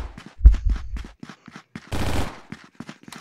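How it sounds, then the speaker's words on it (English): Machine gun fire in the VR shooter Contractors on the Battle Canyon map comes as a string of short, sharp shots with gaps between them, then one longer sustained burst, and sparse shots after it. "Oh, I'm being shot at"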